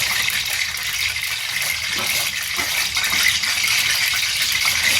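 Wheat-flour batter for sweet pua hits a hot kadhai that still holds a little water, giving a steady, close sizzle and hiss that runs unbroken the whole time, with no talk.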